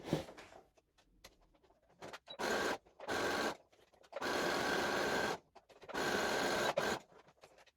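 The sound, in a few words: sewing machine stitching fabric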